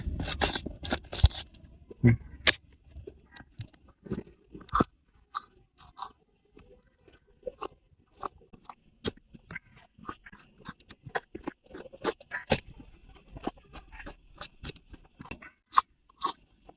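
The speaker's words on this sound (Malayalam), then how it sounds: "മീനൊക്കെ ഒന്ന് നമുക്ക് വരിഞ്ഞു കൊടുക്കാം, മസാല നന്നായി പിടിക്കാൻ വേണ്ടിയിട്ട്" A knife scores cleaned fish in preparation for a green masala fish fry, giving irregular short cutting and scraping crunches, close and fairly quiet, with brief gaps between strokes.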